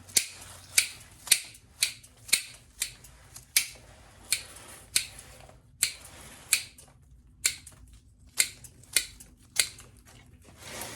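Hedge shears cut a privet hedge in a steady run of sharp, crisp snips, roughly one or two each second. Each close, distinct blade clack stands alone over quiet background.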